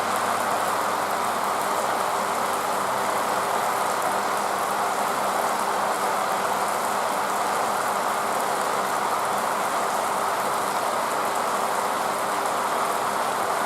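Heavy rain pours in a dense, constant hiss, steady and unbroken throughout, with a faint low rumble beneath.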